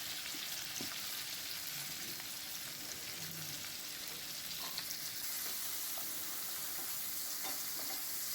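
Chopped onion, tomato and coriander leaves sauté in hot oil for a Tamil empty salna, giving a steady, soft, close crackling sizzle throughout with no talking.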